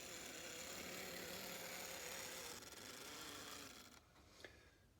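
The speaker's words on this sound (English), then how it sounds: "This little engine don't run too bad." An HO scale Atlas model train engine runs smoothly along the track, a steady whirring rumble that holds for about four seconds, then drops away to quiet with a faint click.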